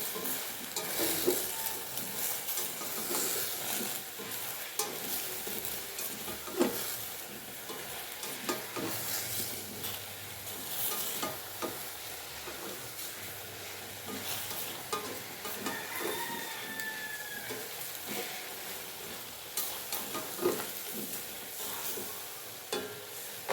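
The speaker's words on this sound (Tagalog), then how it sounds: "Haluin muna natin." Salted coconut-milk shrimp ginataan being stirred in a pan, a steady low sizzle with scattered scraping knocks of the utensil against the pan, moderately close and continuous without speech.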